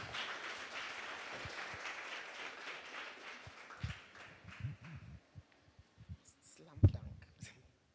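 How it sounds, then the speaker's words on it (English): An audience of a science, engineering and health presentation session applauds a presenter with dense, steady clapping for about five seconds before it thins out to a few scattered claps and footsteps. "Let's clap for him as he comes."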